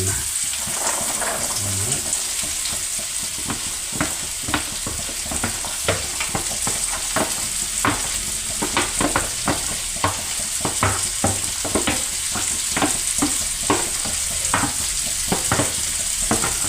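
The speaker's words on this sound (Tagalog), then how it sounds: "ilalagay na po natin ang ating corn" Corn stir-frying in a pan: a constant close sizzle broken by a regular run of scraping and tossing strokes from a spatula, with no talk.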